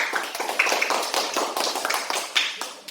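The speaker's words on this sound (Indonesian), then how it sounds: "Kita beri tepuk tangan dulu kelompok 3." A school class claps for a group of classmates, with brisk, uneven handclaps from a modest number of students filling a few seconds close by.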